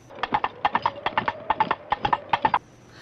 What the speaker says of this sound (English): they hear horses